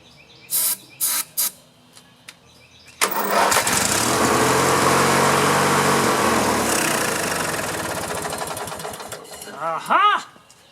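A riding lawn mower with a fuel problem sputters, then catches and runs loudly for several seconds before dying away, with a voice coming in near the end.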